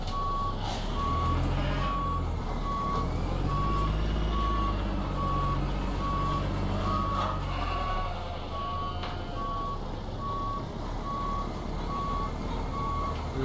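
Steady reversing beeps from an American Truck Simulator truck repeat at an even pace over a constant low engine rumble, loud and close throughout with no talking.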